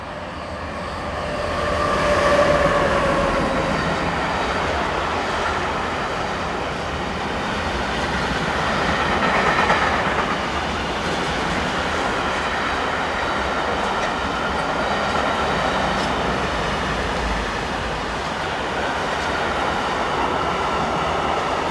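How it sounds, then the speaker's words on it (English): A northbound intermodal freight train hauled by a pair of SBB locomotives rumbles past at close range, a continuous loud roar of wheels and wagons with rhythmic clatter swelling and easing throughout. "We have a pair of locos on this northbound Gallerati to Gecken Graf intermodal, with SBBs 193517 and"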